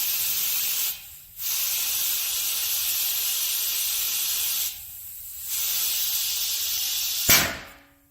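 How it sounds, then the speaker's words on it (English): An air compressor hisses air into the hydraulic system of a DIY mini excavator in loud, sustained bursts, broken by two short pauses and ending in a sharp release. "Gonna use the compressor to get it going"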